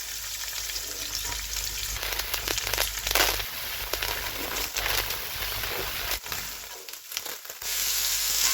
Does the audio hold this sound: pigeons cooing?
no